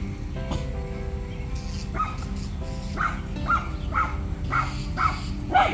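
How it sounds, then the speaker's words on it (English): Dogs bark repeatedly in the distance on rural land near a garden, a steady series of sharp yaps about once a second over outdoor background noise. "Dogs are barking up a storm."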